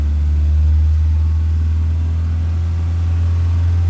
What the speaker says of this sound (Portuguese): Eu vou até acelerar um pouco para ver como que...